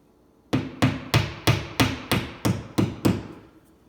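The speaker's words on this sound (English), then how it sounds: "And now I'm just going to drive that nail in." Nine evenly spaced hammer blows drive a nail into a wall to hold a picture hanger, each strike a sharp, close knock ringing out alone in a steady rhythm.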